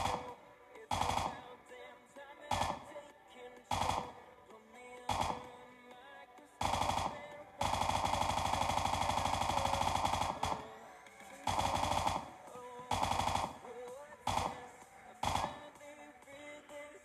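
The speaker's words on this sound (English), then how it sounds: "it's a fantastic automatic rifle. However, it takes forever to reload." An automatic rifle fires in a video game in repeated loud bursts, mostly short, with one sustained stretch of about three seconds of continuous rapid fire. Brief quiet gaps separate the bursts.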